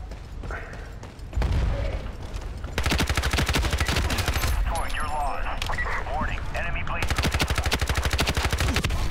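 Rapid automatic gunfire in the shooter game Ironsight, long dense bursts of sharp shots in steady rhythm, loud and close, broken by short pauses and set against the din of a match, with a player talking over it.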